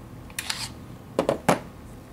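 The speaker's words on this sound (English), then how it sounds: "to disassemble the gun, you have to press the mag release to release the magazine" Magazine being released from a Tanfoglio Witness 1911 full-metal blowback 4.5mm airgun pistol during field stripping: a few sharp metallic clicks and clacks, close up and fairly quiet, with no talking.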